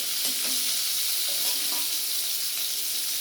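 Whole cumin seeds spluttering in a little hot oil in a pan for a Bengali potol (pointed gourd) curry, a steady broadband sizzle with faint stirring scrapes, fairly close and continuous, no voices.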